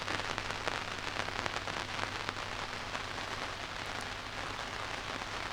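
Steady summer rain patters on a cover close by in a garden, a dense continuous drumming of drops with no voices.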